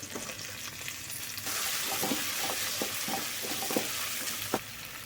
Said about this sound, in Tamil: இன்றைக்கி வடச்சட்டியில் தான் நான் இன்றைக்கி வந்து நான் பண்ணுறேன் கட் பண்ணி வச்சிருக்கிற பச்சை மிளகா போட்டுக்கலாம்